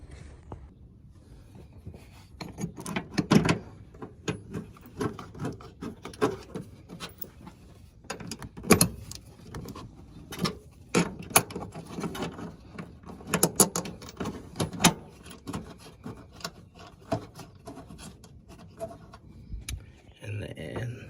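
Ratchet tightening bolts on a relocated washer bottle on a Lexus LX450, quick clicking ratchet bursts and metallic mechanism noises in irregular runs, close up, with occasional low talk.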